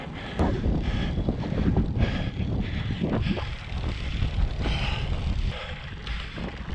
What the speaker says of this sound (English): Hopefully this wind will die down